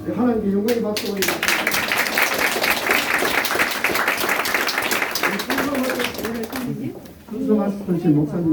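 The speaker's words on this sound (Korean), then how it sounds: "하나님께 영광의 박수 올립니다." A church congregation claps together at a founding thanksgiving service, broad steady applause running for several seconds, with voices and talk underneath before and after.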